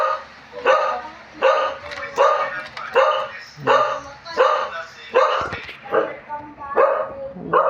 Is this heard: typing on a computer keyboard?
no